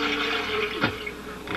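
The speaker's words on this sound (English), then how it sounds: "This jug gets placed here, and we pump the handle." A hand water pump handle in the video game Deadtime Stories gives a single short squeaking stroke followed by a brief watery gush, fairly quiet and alone.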